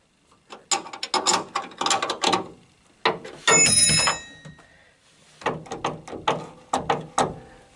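A metal bolt is tightened with an 11 mm flat wrench, giving bursts of close, clicking metallic rasps and taps in short rhythmic groups separated by pauses.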